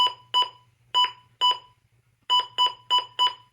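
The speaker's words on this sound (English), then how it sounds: "if you put the siren level on high, listen to the button beeps" A weather radio sounds sharp electronic button beeps with its siren level set to high: seven short, loud tones in quick irregular succession over a faint low hum, with a brief pause in the middle.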